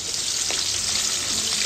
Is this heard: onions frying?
yes